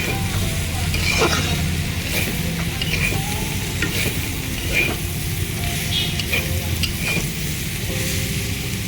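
Mixed vegetables with a little chilli powder are stirred and fried in a pan, giving a continuous loud sizzle with repeated scraping strokes of the spatula throughout.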